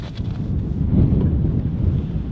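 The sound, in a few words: wind blowing into the microphone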